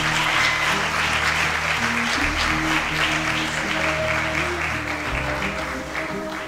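Symposium audience applauding a woman invited as a judge, a sustained loud round of clapping lasting several seconds, tapering slightly at the end, with no one speaking.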